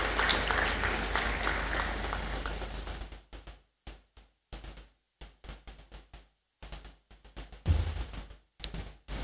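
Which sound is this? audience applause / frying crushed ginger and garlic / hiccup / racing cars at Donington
audience applause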